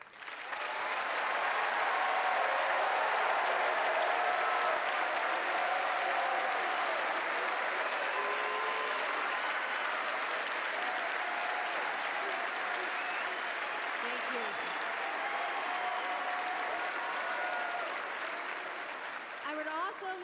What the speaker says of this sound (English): if everyone could show your gratitude with a round of applause